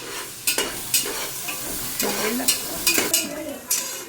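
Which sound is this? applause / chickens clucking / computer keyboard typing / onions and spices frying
onions and spices frying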